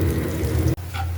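Garlic frying in oil gives a brief close sizzle that cuts out for an instant and then resumes.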